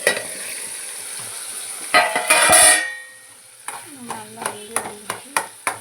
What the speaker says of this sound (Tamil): கரண்டி வச்சு நல்லா குத்தி விட்டோம்னா நல்லா வெந்துடும்